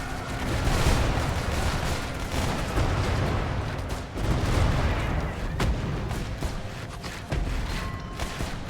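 Gunfire and heavy explosions in a video game war match, dense overlapping shots and booms rumbling continuously, loud and close, with occasional sharp cracks standing out.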